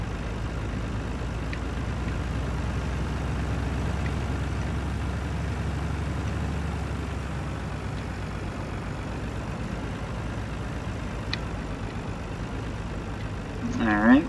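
A truck hauling a heavily loaded trailer in Farming Simulator produces a steady, low engine drone that holds even throughout, with a brief louder swell near the end.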